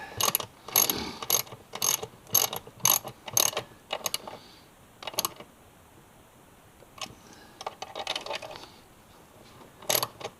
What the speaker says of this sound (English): Ratchet's not ratcheting.